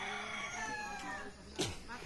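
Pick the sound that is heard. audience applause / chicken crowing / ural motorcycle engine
chicken crowing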